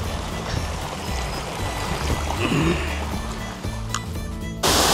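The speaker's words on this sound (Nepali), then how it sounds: "झरना चाहिँ खतरा रहेछ यहाँको मजा लाग्यो झरना" A waterfall on a small trek near Lukla village, a steady rushing wash of falling water heard from fairly close, continuous and broadband with no voices over it.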